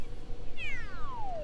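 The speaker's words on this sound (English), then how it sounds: "Meow." A single clear cat meow from the video game Mario 3D World, a bright drawn-out call that slides downward in pitch over about a second, heard alone above a low background hum.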